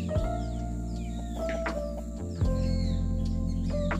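A short-bodied rooster, a black fighting-cock breed, gives a few clucks and short calls close by, with a steady low hum of other birds and background noise throughout.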